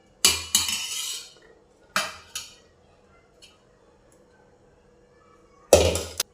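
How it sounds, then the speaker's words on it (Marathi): Bowl clattering against a plate while hot steamed modak rice dough is mixed and pressed, in a few sharp bursts of scraping and clinking separated by quiet pauses. "आणि याला असं वाटीच्या साहाय्याने मिक्स करून घेऊ."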